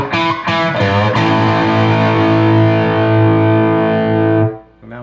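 Electric guitar run through a modded Maxon SD-9 Sonic Distortion pedal at moderate gain: a few picked strums ring into one thick, sustained distorted chord that fades out near the end, loud and alone.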